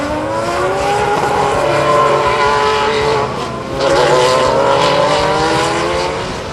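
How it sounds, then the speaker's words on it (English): Race cars, including an Audi TT-R DTM, on the circuit at a CMRC round in Barbados: loud, sustained engine roars with rising and falling revs as cars pass close by, a brief dip midway and then another surge, no voices. "the defending CMRC champion Doug Gore, who spins his Audi TTR DTM on the exit of the first corner on the second lap"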